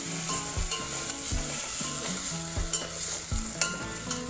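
Spice masala sautés in a hot pan for black urad dal amti, loud sizzling with repeated spatula scrapes and knocks against the pan, no talk.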